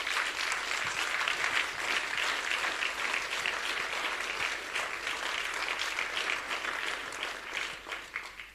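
Sustained audience applause at a political gathering on social Europe, a dense, steady wash of many hands clapping at moderate distance, fading slightly at the end.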